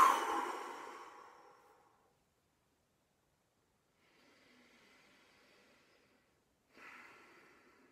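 Deep breathing during a sophrology exercise: a long audible exhale that fades out, a pause of silence, then softer, quieter breaths in, close to the microphone.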